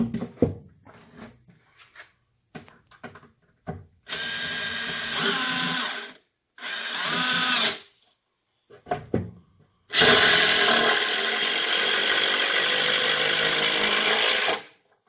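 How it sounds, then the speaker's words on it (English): A power drill drives screws into wood near a solar inverter mounting board, with several loud sustained whirring bursts, the last one long, between short clicks and knocks of handling. "I'm going to be putting some screws in right now."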